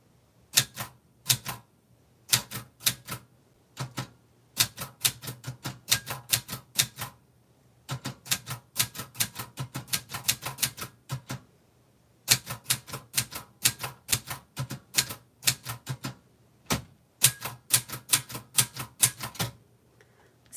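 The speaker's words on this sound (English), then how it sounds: "I have to type harder." Keys clack on a typewriter, typing out a short message, in quick close bursts of sharp strikes separated by brief pauses, loud and with no voices.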